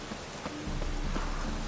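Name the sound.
rain cloudburst in video game The Witcher 3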